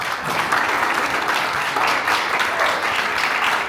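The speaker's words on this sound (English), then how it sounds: "Please, could you clap for us?" A seminar audience claps together, thick sustained applause filling the room evenly at a strong level, without talk over it.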